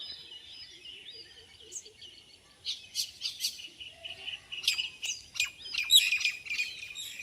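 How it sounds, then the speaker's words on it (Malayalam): Several birds chirp and tweet in quick bursts, sharp high calls overlapping in the middle distance, growing busier toward the end; no talking. "വേറെ കുറേ കിളികളുണ്ട്"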